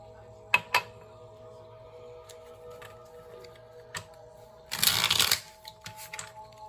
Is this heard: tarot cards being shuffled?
yes